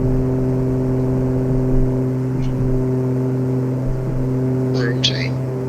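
Airliner engines at takeoff power in Microsoft Flight Simulator 2024, a steady loud drone with strong low tonal hums throughout, and a voice talks over it.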